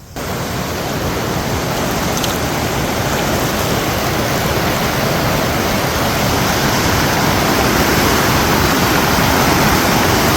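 A waterfall roars nearby, a dense, loud wash of rushing water that stays constant and unbroken throughout, with no voices over it.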